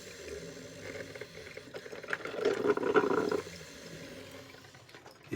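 Coffee maker brewing, giving a soft gurgling, bubbling liquid pour that swells in the middle and then settles into a low steady hiss, close but fairly quiet.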